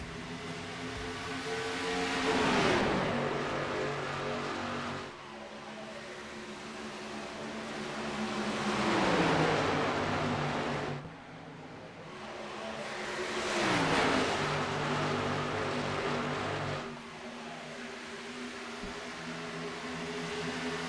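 A pack of stock cars in a sim racing Xfinity Series game roars through a restart, engines rising and falling in three long sweeping passes as the field accelerates past, droning steadily with no talk.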